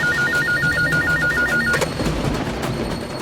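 A telephone rings with a rapid warbling electronic trill that stops after about two seconds, over a steady background hum.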